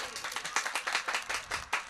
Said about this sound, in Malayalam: ഈ സാറിന് എല്ലാവരും നല്ലൊരു കയ്യടി കൊടുക്കും